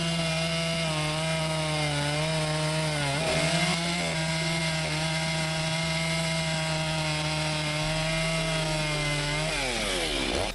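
A Makita UC4051A corded electric chainsaw with a 14.0 amp motor cutting through wood, a loud steady motor whine that dips in pitch as the chain bites, continuous and close.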